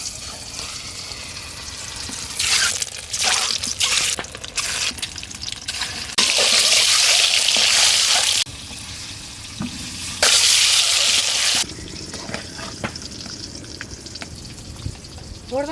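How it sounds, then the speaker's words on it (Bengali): Turmeric-coated eggs fry in hot oil in a wok, with loud bursts of sputtering sizzle rising and fading in waves against a quieter crackle and occasional clinks. "ডিমগুলোতে হলুদ মাখিয়ে ভেজে নিচ্ছি"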